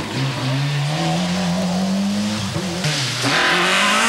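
A rally car, the Renault Megane with an engine running poorly, races along a stage at the 1996 Tour of Flanders in Belgium, its loud close engine holding a droning pitch before dipping and rising again.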